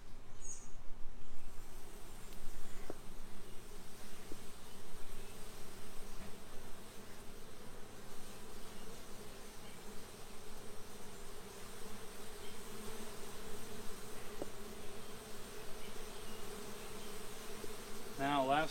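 A dense, soft hum of many honeybees buzzing around an open flow hive, steady and fairly quiet, with a few individual bees passing closer.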